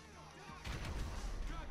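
A bomb explodes in GTA 5 survival gameplay, a muffled low boom that rumbles on for about a second after a quieter start.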